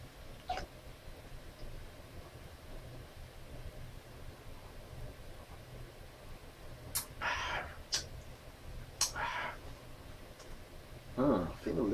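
A cat indoors gives a few short, faint cries in quick succession over a quiet room hum, with a voice heard nearby.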